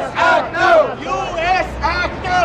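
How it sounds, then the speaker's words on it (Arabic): A small group of voices chants rhythmically in a short, repeated call at a Times Square anti-war protest, urging a faster military attack; the bursts are loud and near, with a crowd murmuring beneath. "ففي طرف آخر من الساحة هتفت مجموعة صغيرة داعية للتعجيل بالهجوم"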